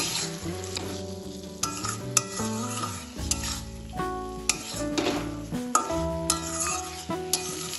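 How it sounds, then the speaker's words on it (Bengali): Flat beans stirred and fried with spices in hot oil, with steady close sizzling, repeated utensil scrapes and clinks against the pan, and no talking. "এবার এর মধ্যে দিয়ে দেবো ভেজে রাখা শিমড়ি শিমটাও ভালোভাবে মশলার সাথে মিশিয়ে নেব"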